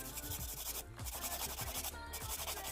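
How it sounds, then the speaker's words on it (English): A buffer smooths a polygel stiletto nail in quick, regular rubbing strokes, a faint, close scratchy sanding with brief pauses between passes. "So just smooth it all off with a buffer."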